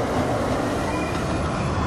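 A tram rolls past with a loud, steady rumble and rail noise, close and continuous with faint wheel squeal and no voices.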